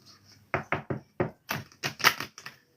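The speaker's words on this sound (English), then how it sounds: "Let me shuffle." Carnelian oracle card deck being shuffled by hand, a series of about ten crisp papery taps and riffles in uneven rhythm, close and clear with quiet pauses between.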